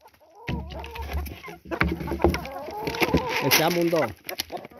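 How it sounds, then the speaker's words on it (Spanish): Chickens cluck and squawk in a coop on a small farm raising pigs and chickens, heard close and busy while someone talks over them. "Miren cómo se sienten esas gallinas."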